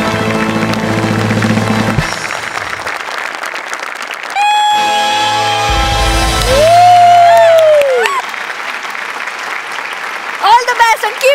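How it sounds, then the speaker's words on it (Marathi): An audience applauds a stage performance, with a burst of clapping mixed with music and a voice speaking over it. "एकदा उभं राहून तुमच्यासाठी टाळ्या वाजवतो."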